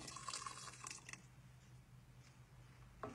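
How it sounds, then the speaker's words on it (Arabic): Boiling water poured into a pot over browned, fried meat for a lamb tajine: a brief splashing rush for about a second that fades to quiet bubbling, with a faint clink near the end. "نصب عليه الموية المغلية"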